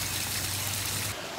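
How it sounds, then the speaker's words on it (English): A steady rush of water falling from a backyard pond waterfall splashes continuously over a low hum, close by and unbroken. "Love the waterfall."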